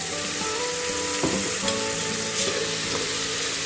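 Onions sautéing in a pan while making mushroom biryani, a steady close sizzle and frying hiss with a few clinks of stirring, no talk.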